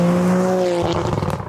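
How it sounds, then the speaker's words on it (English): Tuned Toyota GR Corolla engine holds a steady high-rpm drone on a gravel road, then breaks into a choppy, stuttering rasp as the revs fall off, loud and close. "when you're really ripping on it, banging rev limiter, just high up in the RPMs on a gravel road, it actually sounds really fitting for the car."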